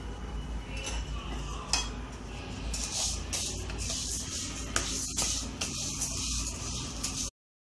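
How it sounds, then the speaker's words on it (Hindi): Mixed dals, urad dal among them, being dry-roasted in a pan, giving soft scraping and clinking of a spoon against metal with light rustling of grains, steady and close throughout. "अब हम इनको रोस्ट कर लेंगे।"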